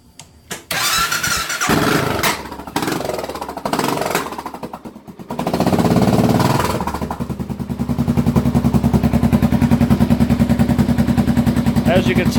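A 2008 Suzuki S40 single-cylinder motorcycle with an Emgo short reverse cone muffler cranks and catches after several starter bursts, then settles into a loud, close, rapid thumping idle that runs steadily to the end.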